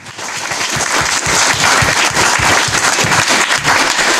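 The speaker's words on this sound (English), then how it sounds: "let's have a round of applause for all of you for attending" A hackathon kickoff crowd gives the attendees a round of applause, with loud, full clapping from many people that swells quickly and holds steady to the end.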